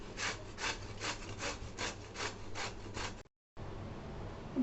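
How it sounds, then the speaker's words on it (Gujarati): A bottle gourd is grated on a hand grater in a kitchen, giving about eight evenly spaced rasping strokes, then a brief pause and a steadier scraping. "આપણે 1 દૂધી લીધી છે, એને ખમણી વડે આપણે ખમણી લઈએ."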